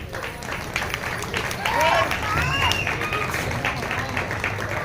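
A crowd at a Congress public rally for Charminar candidate Mujeeb Ullah Shareef claps in a sustained, dense wash of applause, with voices and crowd chatter running underneath.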